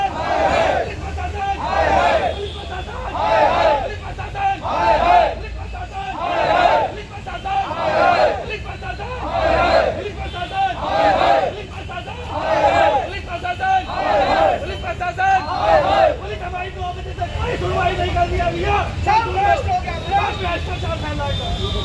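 An angry crowd protesting outside the Muradnagar police station, with loud, rhythmic shouted chants rising and falling in repeated bursts over a steady murmur of voices and traffic.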